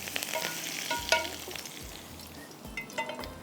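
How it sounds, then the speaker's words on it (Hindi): Hot oil with fried green chillies crackles and sizzles steadily as it is poured over a beef handi, with a few sharp pops and spits, close and moderately loud. "इसके ऊपर हम लगा रहे हैं हरी मिर्चों का ये तड़का"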